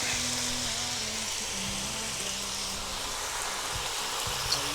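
A Chinese stir fry sizzles and crackles steadily in a hot pan in a home kitchen while it browns, a dense, loud, unbroken hiss close up.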